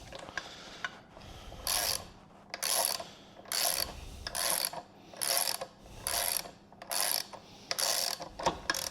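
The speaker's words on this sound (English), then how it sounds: "I need to get my socket to get that tightened. So back on the 17mm." A socket ratchet turns to tighten a 17mm fitting during a mechanical pump seal repair. It gives a steady series of quick, close ratcheting clicks in regular bursts with no talking.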